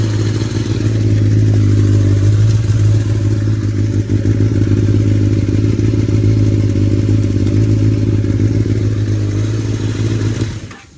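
A Kawasaki ZX10R sport bike engine runs steadily and loudly close by, just after an ECU flash, a sustained low droning rumble with some clatter that cuts off near the end.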